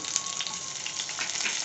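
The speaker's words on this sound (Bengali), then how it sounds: "তো এটাকে আমি ভালো করে একটু ফ্রাই করে নেব" Thinly sliced mango with green and dry chillies frying in mustard oil for a sweet and sour dal, giving a dense, continuous close sizzle with no talk.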